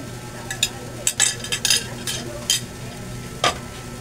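Fried rice stir-fried in a pan: a steady low sizzle with a run of sharp spatula scrapes and clinks against the metal, several strokes spaced irregularly and one louder scrape near the end, close up with no talk.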